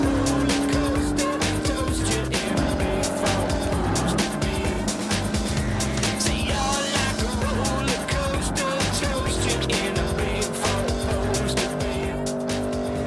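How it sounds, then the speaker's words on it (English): A 2022 Porsche Cayenne Turbo GT driven hard in second gear, its engine roaring loudly and continuously with rising and falling revs and tire squeal, heard close from inside throughout. "we're finding that the car is barely getting out of second gear, which makes it quite a lot of fun"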